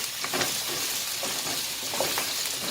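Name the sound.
pumpkin and carrots sautéing in hot oil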